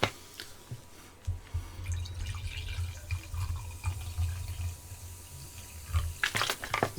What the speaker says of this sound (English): Time to pour a tango.